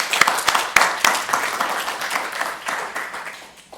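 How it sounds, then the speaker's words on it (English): A short burst of scattered applause from a small group at a Mozilla weekly project meeting, claps fairly close and fading out after a few seconds. "Let's give a round of applause for Cesar and his contributions"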